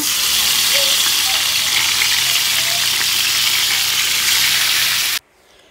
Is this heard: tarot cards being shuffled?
no